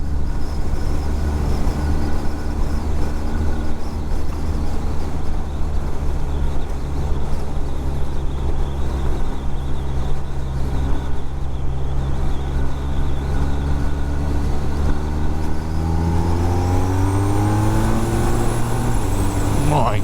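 A BMW R1250R boxer-twin motorcycle engine pulls hard in third gear on an open road, a loud steady drone under heavy wind rush that climbs in pitch toward the end.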